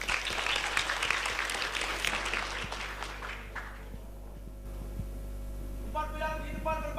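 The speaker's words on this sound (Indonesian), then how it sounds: "Beri tepuk tangan yang meriah untuk SMK Negeri 3 Bangli." Crowd at a school quiz competition final applauds SMK Negeri 3 Bangli, loud dense clapping that fades out midway, leaving mains hum and a faint tonal sound near the end.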